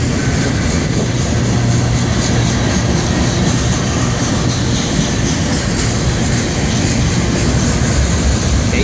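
A Florida East Coast freight train rolls past close by with an old Amtrak boxcar in its consist, giving a loud, continuous roar of wheels and cars with faint clickety-clack and no letup through the whole stretch.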